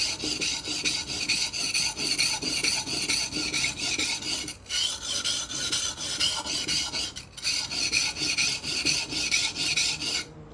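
A knife blade scraping back and forth on the coarse 120-grit side of a whetstone, loud and gritty, in steady repeated strokes with two brief pauses.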